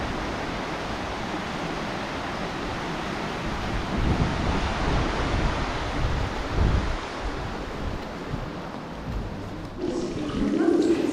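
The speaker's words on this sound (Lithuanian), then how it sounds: "matome labai gražų, nerealiai didelį platų paplūdimį, matome gražų vandenyną" Ocean surf on a wide, open beach in Portugal, a steady broadband roar of waves with swells rising and easing, close and loud, with wind buffeting the microphone.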